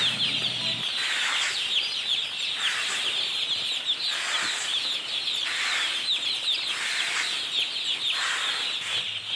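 Young chicks on their first day cluck and peep continuously while being fed grain, a busy overlapping chorus of small bird calls in repeated bursts, with occasional faint wing flutters and no talk.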